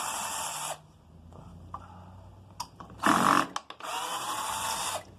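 A cordless screw gun whirs in short bursts while backing screws out of a ceiling fan: three separate spins with quiet gaps and small clicks of handling between them, fairly close.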